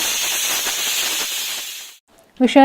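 A pressure cooker full of a tomato dish vents a loud, rushing steam hiss for about two seconds, then cuts off abruptly; a short voice follows at the very end.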